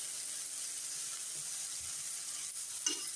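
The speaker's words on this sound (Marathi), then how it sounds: "छान असं फ्राय करून घेऊ." Potato slices sprinkled with rock salt fry in a pan with a continuous close sizzle, punctuated by a few soft scraping stirs toward the end.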